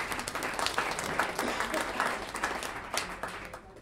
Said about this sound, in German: Ich möchte mal einen Applaus für den Ralf haben.